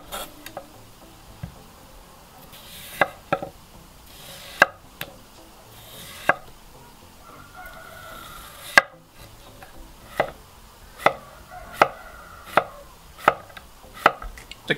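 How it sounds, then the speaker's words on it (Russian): Sharp knife chops strike a cutting board while slicing a cucumber, in irregular clusters, picking up into a steady, brisk rhythm toward the end, close and clear. "Теперь нарезаем огурчик."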